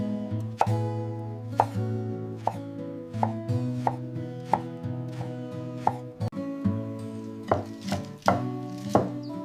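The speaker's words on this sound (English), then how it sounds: "Chopping them very finely." Knife finely chopping shiitake mushrooms on a board, a steady run of crisp, evenly spaced chops close by, with soft music playing underneath.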